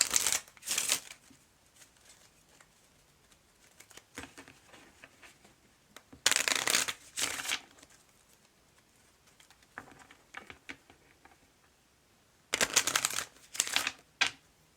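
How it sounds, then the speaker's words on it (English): Bursts of card shuffling, a deck riffled and bridged several times with quiet gaps between, close and crisp. "I'm going to shuffle my playing card deck"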